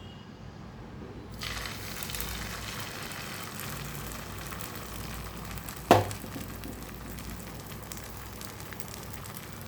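Egg omelette mixture fries in oil on a tawa, a soft steady sizzle that rises after a quiet start, with one sharp clank partway through.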